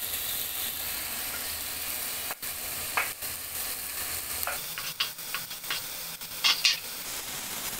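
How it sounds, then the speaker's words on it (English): Tomatoes cook in a pan for a meatball pasta sauce, giving a steady soft sizzle with a few brief scraping stir sounds toward the end; no one speaks. "I'm going to add my tomatoes now and cook them up"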